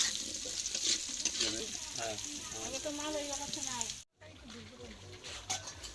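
Meat being sautéed and stirred in a pan in a home kitchen, a steady sizzle with scraping stirs running under a woman's speech, cut off by a brief silence before the sizzling resumes.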